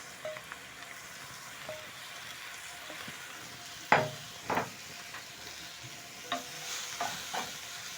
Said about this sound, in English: Using your spatula, you're going to stir in as the cabbage cooks.